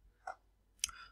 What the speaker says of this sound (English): When you click on file manager